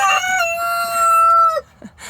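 A rooster crows loudly and close by in one long, sustained call, followed by a brief squawk.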